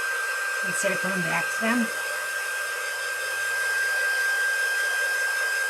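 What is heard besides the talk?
dryer drying icing on decorated gingerbread cookies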